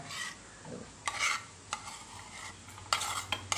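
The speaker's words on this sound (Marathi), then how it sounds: "त्या दह्यामध्ये आता साखर आणि घालून आपण मिक्स करून घेऊया दही" A spoon stirs thick homemade curd mixed with sugar in a bowl, giving several short scraping strokes in uneven bursts, close up and with no voices.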